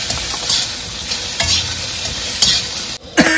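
Potatoes sizzle in hot oil in a wok while a utensil scrapes and stirs them, with a sharp metallic clank near the end.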